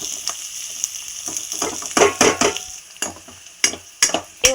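Tiger prawns and onions sizzle and fry in a pan for gonguura prawn pickle, with steady hissing broken by sharp stirring scrapes and clicks, close by with no talk.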